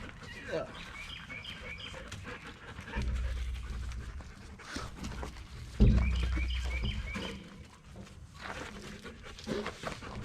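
A dog pants in rapid, steady breaths close by, with soft birdsong chirping in the background and a few louder bursts of movement.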